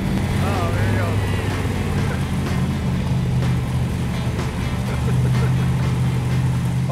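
A 1971 Plymouth 'Cuda with a 440-6 engine runs with a steady, loud low rumble, close by at a car show, while people talk and shout nearby throughout.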